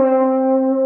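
Brief sustained French horn note altered by the player's right hand in the bell, a loud, steady, slightly muffled tone lasting under a second and ending abruptly.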